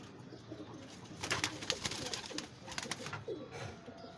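Teddy pigeons coo in soft, repeated low calls, faint and close, with rustling and scattered chirps around them.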